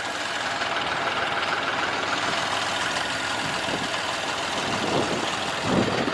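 A farm tractor engine runs steadily on a snowy farm day, a close, continuous mid-pitched rumble with a brief louder surge near the end and no speech over it.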